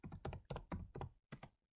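Typing on a computer keyboard, heard as quick bursts of clicking keystrokes with brief pauses between runs, close and fairly quiet, with no voices.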